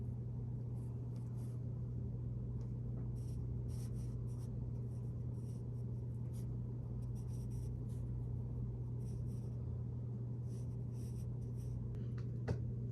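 Pen writing on paper, faint scratchy strokes in short irregular bursts over a constant low hum in a quiet room.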